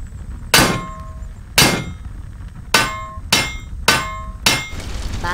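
In an animated show, a hammer strikes metal six times at uneven intervals, each a sharp ringing clang that decays quickly, loud and close, with no speech.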